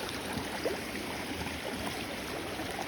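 A streambank beside a patch of stinging nettles, with water flowing in a continuous soft wash and gurgle, steady and fairly near, no voices.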